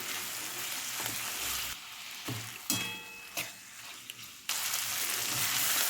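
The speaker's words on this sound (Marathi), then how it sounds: "आपण कट केलेलं दोन टोमॅटो याला पण आपण फ्राय करून घ्यायचं" Onion and two chopped tomatoes fry in a pan for green chana masala, a close, continuous sizzle interrupted by a few sharp stirring clinks and brief dips before the hiss swells back loudly.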